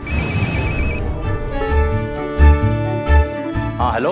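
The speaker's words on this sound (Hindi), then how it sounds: "चलो भाई, अपना तो फोन आ गया" A phone ringtone plays loud and close, a repeating melodic electronic tune with steady beeping notes in a Hindi crime drama scene, with background music and sound effects under it and no talk.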